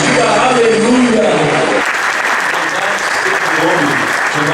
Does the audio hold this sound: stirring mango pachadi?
no